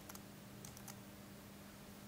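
Faint keystrokes on a computer keyboard while setting up a Softube Console 1 controller in Pro Tools, a few quick clicks near the start and middle over a steady low hum.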